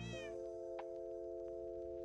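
A single short meow from a Minecraft cat opens the moment, followed by a steady electronic hum and faint clicks from the game.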